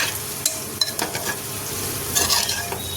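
A spoon scrapes and stirs through kanda curry sizzling in a pan as sugar and garam masala powder are mixed in, with quiet, uneven scraping strokes over a steady frying hiss.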